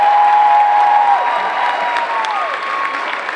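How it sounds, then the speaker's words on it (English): Audience applause at a cosplay competition: a dense, steady wash of clapping from a crowd, with a sustained tone from the hall sound system gliding down under it. "Round of applause for them, with us."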